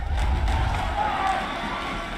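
Supporters in the MPL esports arena at an RRQ versus Alter Ego Mobile Legends match (MPL Season 11) cheer as a loud, roaring crowd in a brief swell that fades to a steady murmur.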